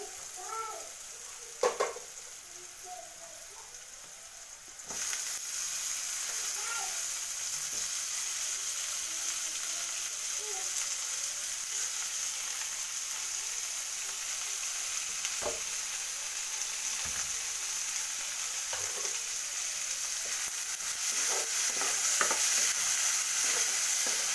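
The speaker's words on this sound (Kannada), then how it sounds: "ಈರುಳ್ಳಿ ಫ್ರೈ ಆಗುವಾಗ ಅರಿಶಿಣ ಹಾಕೊಂಡ್ರೆ ಬೇಗ ಫ್ರೈ ಆಗುತ್ತೆ" Onions fry with turmeric in a pan, a steady close sizzle that runs throughout with occasional spoon stirs and scrapes. It is fairly quiet at first and then grows louder and constant after the first few seconds.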